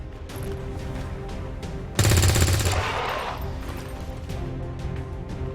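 Gunfire in the turn-based strategy game XCOM: a sudden burst of rapid shots starting partway through that rings and fades over steady background game ambience, with no voices.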